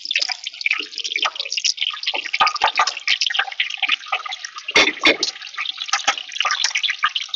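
Bay leaves, cinnamon and cardamom fry in hot mustard oil for an olive pickle, giving a steady, close crackling sizzle with dense popping spatters and no speech.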